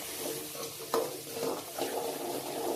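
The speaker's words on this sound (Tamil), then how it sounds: "பூண்டு பல்லு அதையும் போட்டுக்கலாம். ஒரு 10 நிமிஷம் அந்த எண்ணெயிலே வதக்கி விடுவோம்." Garlic cloves sautéing in oil make a soft, faint sizzle with scraping stir strokes and one sharper clatter about a third of the way through, all fairly quiet and close.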